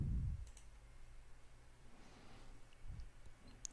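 A single soft computer mouse click, quiet and close, followed by faint room background in a still, hushed setting.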